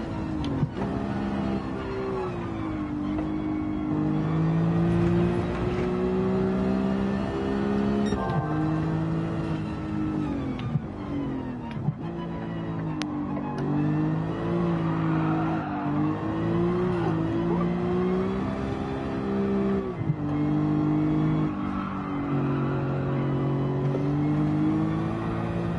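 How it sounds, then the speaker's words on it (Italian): Gran Turismo 7 car powering out of a corner with heavy oversteer, a steady loud engine drone with shifting revs and faint tire squeal running continuously throughout, no talking. "se io accelero in uscita di curva, vedrete che avrà un sovrasterzo molto marcato"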